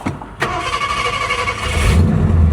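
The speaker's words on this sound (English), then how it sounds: "Fires right up. Sounds good." A 60-year-old Ford Galaxie engine cranks briefly, then fires and catches. It settles into a loud, rough idle that grows fuller toward the end, recorded close by with no talking.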